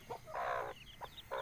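Desi hens on a poultry farm cluck in a few loud, close bursts, a long throaty call in the middle and shorter clucks before and after, with no talking.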